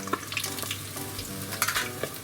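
Cheese sticks deep frying in hot oil, a soft steady sizzle with scattered crackling pops, fairly quiet and close, with no voices.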